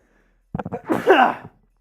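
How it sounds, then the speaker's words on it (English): A single close sneeze, a few quick sharp intakes building into one loud burst, then quiet, coming from someone talking about food on a live sports show. "I got to sneeze."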